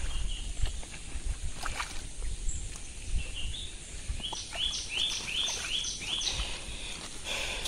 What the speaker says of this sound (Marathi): पक्षी जाम ओरडतात.